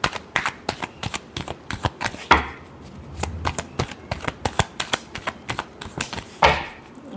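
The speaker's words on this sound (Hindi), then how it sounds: "Last shuffle." Tarot cards are shuffled by hand up close, making crisp rapid riffling taps in an uneven rhythm with a couple of louder slaps.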